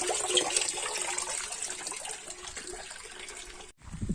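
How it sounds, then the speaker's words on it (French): Water trickles and splashes steadily from a small, cool outdoor fountain on a hot day, a continuous close-up flow with no voices over it. "Il est bien mignon ce petit coin par forte chaleur, avec cette petite fontaine bien fraîche."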